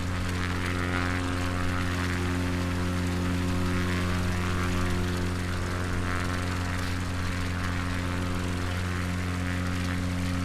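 Steady propeller aircraft engine drone from a flight simulator, cruising near Altoona, Pennsylvania, with strong constant tonal hum and broadband roar, unbroken and loud throughout with no talk.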